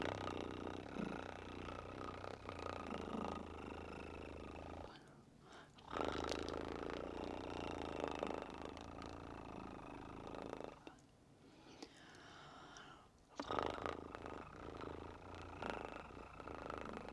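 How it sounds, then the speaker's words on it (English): A cat purrs softly and close up in long rhythmic cycles, a low rumbling drone that breaks off for brief pauses between breaths. "that was a long purr"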